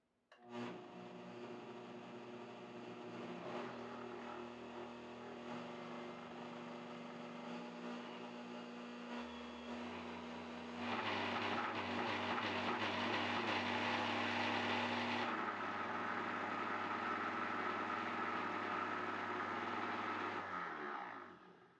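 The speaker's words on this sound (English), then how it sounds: "I'm going to go ahead and touch the start button, and I'm going to ramp it up to speed 6 very slowly" A Vitamix blender fitted with the AER disc container ramps slowly up to speed 6, a loud steady motor whine with a harsher, louder surge midway that later drops back to a steadier drone before stopping.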